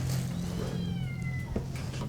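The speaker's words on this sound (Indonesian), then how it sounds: "Tim kita mencoba menyelamatkan beberapa kucing yang terjebak di atap rumah seorang warga." Several cats stranded on a house roof during a flood in Karawang, Indonesia, meow plaintively over a steady low engine hum from a rescue boat, with thin wavering calls and a brief knock.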